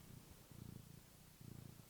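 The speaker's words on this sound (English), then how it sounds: "Do you want to give us a little purr?" A house cat purring close up, soft rhythmic rumbling in two short bursts separated by a pause, faint and intimate with no voices.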